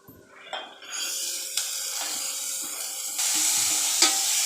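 Potato and tomato with salt are stirred in a pan. They sizzle steadily and close by, with scraping stirs of a spoon and a brief clink against the pan.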